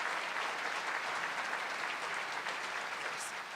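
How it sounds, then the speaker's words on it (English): Audience applause at an award dinner, a dense, steady wash of clapping from a large crowd that holds at an even level throughout without pause. "We can give him a round of applause"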